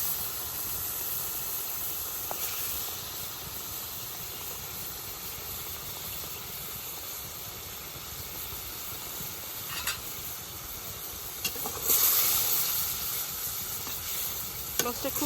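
Cut tilapia river fish fries in spiced oil in a village kitchen, giving a constant bright sizzle under occasional scraping stirs and clatters that swell louder toward the end, close by with no speech.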